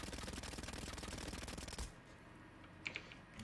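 Rapid automatic gunfire from a weapon in Killing Floor 2, a fast even burst of shots lasting under two seconds, then stopping, followed by a couple of faint metallic clicks in near silence.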